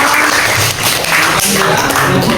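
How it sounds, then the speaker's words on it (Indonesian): A group claps at an Indonesian classroom presentation, a short burst of dense applause that stays loud and close and dips briefly midway. "Tepuk tangan untuk"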